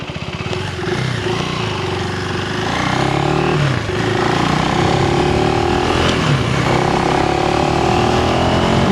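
A KTM 390 Enduro R motorcycle engine revs up and climbs on the road, loud and close, with rising pitch sweeps and steady engine drone.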